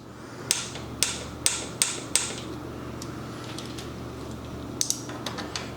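Torque wrench ratcheting air cleaner bolts to 60 inch-pounds on an air cleaner install, heard as a string of sharp, close mechanical clicks in an uneven rhythm, about five in a burst, then a pause and a few more.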